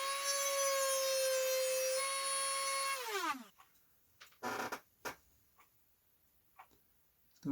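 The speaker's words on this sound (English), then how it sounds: "I think the easiest way to open that up will be with the Dremel" A Dremel rotary tool whines at a high steady pitch for about three seconds while cutting into a plastic part of a model airplane, then spins down, followed by quiet handling clicks and scrapes.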